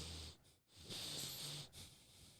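A voice imitates heavy, wheezy breathing with snorting, hissing inhales and exhales in a few rough bursts, close and fairly quiet.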